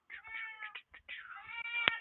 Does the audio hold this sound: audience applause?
no